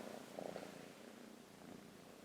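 A kitten purrs steadily and softly up close, a low continuous rumble that swells slightly in pulses, with no talking.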